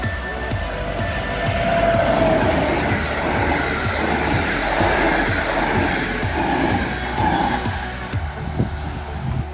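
An Intercity train passes a railway level crossing in Zębice near Wrocław. Wheels click over the rail joints in a fast, regular rhythm beneath a loud rushing roar, and the sound fades toward the end.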